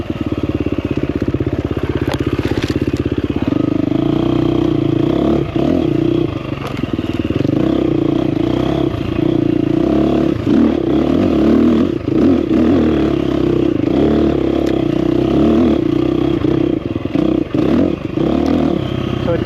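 A 2024 KTM 350XCF Factory Edition dirt bike fitted with a Rekluse clutch, engine droning loud and steady while riding, with rattles and scrapes over rough ground.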